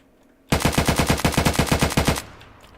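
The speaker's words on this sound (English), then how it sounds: "I shot so many shots, but I think the first one is what killed him." Rapid 7.62 rifle gunshots in the video game Unturned, a loud, close burst of about a dozen evenly spaced shots lasting under two seconds, then a short fading tail.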